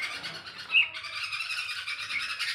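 A single sharp bird squawk rings out near the start, over a steady high chirping and rustling background, close by.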